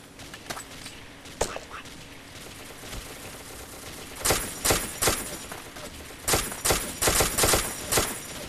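Gunfire in the blocky shooter game Ace of Spades: scattered single shots early on, then a run of loud, sharp bursts and volleys from the midpoint to the end.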